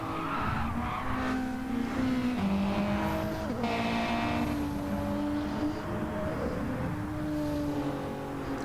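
Racing car engine howling through the Monza chicanes in a racing video game, a Subaru close ahead, with steady high revving, downshifts and tire skids, loud and continuous with no talk.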